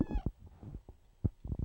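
A cat gives one short, close meow, followed by soft bumps and rustling.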